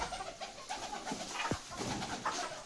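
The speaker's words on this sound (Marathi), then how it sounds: "हे याच्याकडे कबूतर आहे उतरलेले आहेत आता सर्व." Pigeons gathered at a farm give soft, close coos, a few low throaty calls rising over a faint outdoor background.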